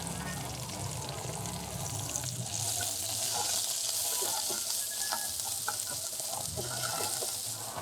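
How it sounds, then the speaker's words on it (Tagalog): Onion and ginger sautéing in a pan at a campsite, giving a steady close sizzle with occasional stirring clinks and scrapes, no talk. "Tapos saka tayo mag-isa ng sibuyas."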